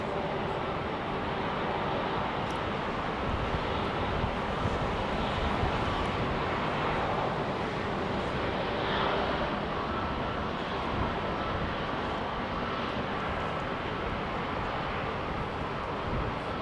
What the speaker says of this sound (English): hopefully we'll get a beautiful sound of the engines on that jet